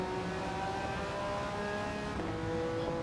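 A 1997 Porsche 911 GT1 Strassenversion engine in Gran Turismo 7 drones at high revs with a sustained, slightly shifting tone, heard alone and fairly close.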